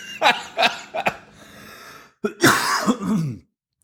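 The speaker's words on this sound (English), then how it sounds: "That time I unmuted so I could cough on the mic." Several short, sharp coughs and throat-clearing bursts close to the mic, followed by a longer, rougher coughing fit, then silence.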